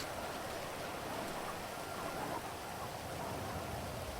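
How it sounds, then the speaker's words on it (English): Steady outdoor rain falls as a dense, even hiss with no letup, with nothing else heard over it. "maybe I ought to get out of the rain"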